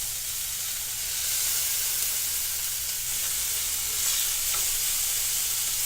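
Steak for a Philly cheesesteak sizzles in a pan, a steady, close, broadband hiss with faint spitting pops, constant and unbroken with no talk.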